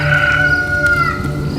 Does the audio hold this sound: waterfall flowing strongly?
no